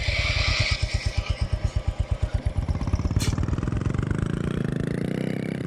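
Motorcycle engine in the video game Indian Theft Auto, first chugging in slow, evenly spaced pulses, then rising into a faster continuous drone as it revs, with a short click near the middle.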